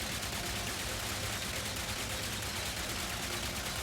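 Rapid, dense gunfire from the first gun in Ratchet & Clank: Rift Apart rattles on without pause, a constant fusillade of shots at low overall loudness.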